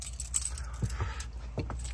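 Keys jangle in short bursts while a vanlifer locks up a camper van, with faint rustling and a low steady hum underneath.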